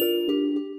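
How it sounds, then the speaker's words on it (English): A phone rings with a steady electronic tone, sounding close and clear, with short pulses repeating roughly every quarter second. "hold on, my phone's ringing"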